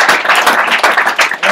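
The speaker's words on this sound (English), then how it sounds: "I want to clap it up for these supervisors" A burst of close, loud clapping from a small group at a sales training session, cheering new supervisors with rapid, uneven hand claps that rise and dip in short waves.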